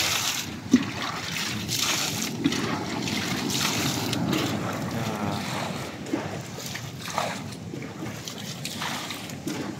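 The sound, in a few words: boat moving on water in wind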